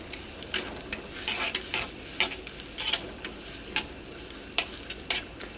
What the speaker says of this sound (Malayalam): ഈ സവോളയും പൊരിഞ്ഞിട്ട് നല്ലൊരു ഗോൾഡൻ കളറാവണം